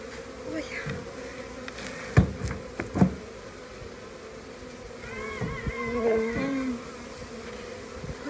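Bees buzz around a beehive outdoors on a cold, sunny day, a steady close hum with a few sharp knocks and shifting tones near the end, and no speech.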